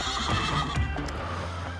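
A horse whinnies loudly and close by in a children's hospital science show, a single drawn-out neigh rising and falling over about a second, with faint background noise afterwards.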